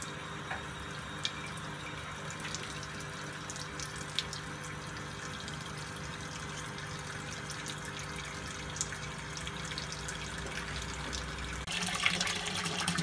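A washing machine on its first rinse cycle with water near 40 degrees, giving a steady, quiet rush of running water that continues unbroken and grows slightly louder near the end.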